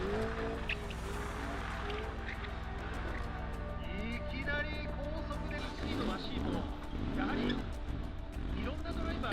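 A Toyota GR GT accelerates on a runway with traction control off, engine revving steadily and loud before tires spin and squeal in wavering bursts near the end; a voice talks over it.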